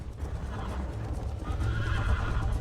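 Horse neighs and gallops in Red Dead Redemption, with rumbling hoofbeats and a whinny rising over the noise of a race, steady and close.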